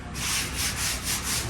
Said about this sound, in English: just rubbing it down with an 80 now